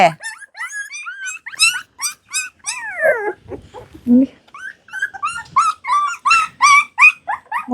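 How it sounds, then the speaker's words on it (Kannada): A mother street dog with puppies growls, whimpers and gives short yelping barks at a stranger, close and loud in a rapid uneven series, with a person's voice mixed in. "ಮರಿ ಹಾಕಿರೋ ನಾಯಿಗಳು ಬಿಡಲ್ಲ ಮನೆಯವ್ರನ್ನ ಬಿಟ್ಟು ಬೇರೆಯವ್ರನ್ನ ಮುಟ್ಲಿಕ್ಕೆ"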